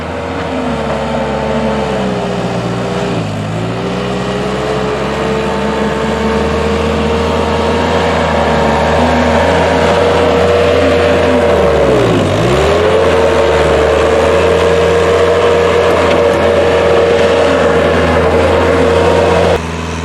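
A farm tractor disking dirt alongside a skid loader, a loud continuous droning engine close by with pitch that dips and recovers twice as the load changes.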